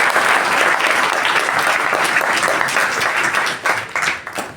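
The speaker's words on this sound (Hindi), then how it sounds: "एक बार ताली बजाओ" Steady applause from an audience at an Arya Samaj annual gathering in Noida, dense and continuous for several seconds before thinning out near the end.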